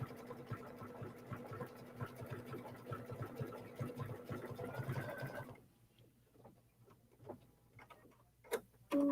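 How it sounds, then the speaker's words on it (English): An embroidery sewing machine runs decorative stitching on leather, a steady, rapid mechanical ticking and whirring that stops partway through, followed by faint clicks and handling sounds. "we're just going to finish up the decorative stitching on the leather here"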